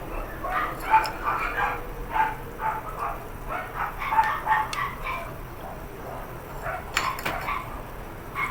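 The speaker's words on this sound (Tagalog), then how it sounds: "Marami silang alagang mga aso. Kaya maingay." Several dogs bark in scattered bursts at a moderate distance, with occasional clinks of kitchenware and a faint rooster-like call in the background.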